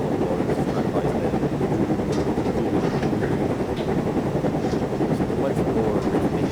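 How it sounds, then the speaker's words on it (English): LMS 5XP Jubilee 4-6-0 steam locomotive in Train Simulator Classic, its cylinders beating in a steady, rhythmic chuff over a dense, continuous rolling rumble that stays loud and close throughout. "Now it's not quite the offbeat cylinder sound that you would expect sometimes from the other cylinder locomotives."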